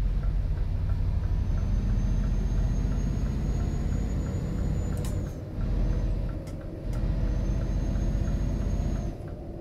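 Truck brakes in Euro Truck Simulator 2 with ABS switched off give a thin, high squeal that holds steadily over a loud, constant engine rumble. The squeal briefly cuts out and returns a few times.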